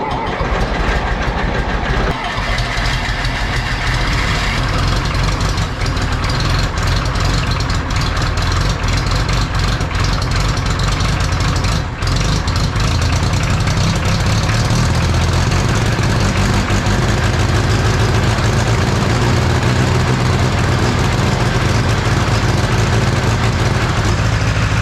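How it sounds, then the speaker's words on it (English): A rebuilt John Deere 1010 tractor engine cranks at half throttle and catches, then runs steadily for about twenty seconds with a loud, continuous low chugging rumble. "Let's crank it."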